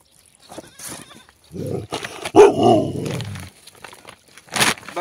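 A dog's loud, rough bark or growl rises near the middle amid a rural household yard, with a few scattered clicks and sharp noises around it and no talking.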